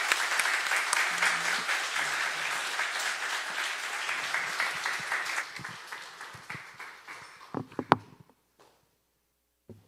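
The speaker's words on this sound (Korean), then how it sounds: "뜨거운 박수로 우리 목사님을 모시겠습니다" Church congregation at a Sunday service giving warm applause to welcome a pastor, a full steady round of clapping that thins out to a few last claps and then silence.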